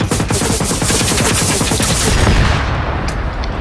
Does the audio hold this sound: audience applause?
no